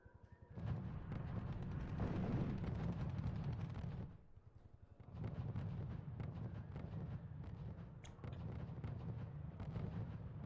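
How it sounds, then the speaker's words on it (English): Artillery bombardment in the strategy game RUSE, a dense run of rapid, rattling blasts and rumbling impacts that breaks off briefly around the middle and then resumes just as heavily, faint overall and without talk. "I just got artillery right here besides the city, the lake, and I can just bombard it"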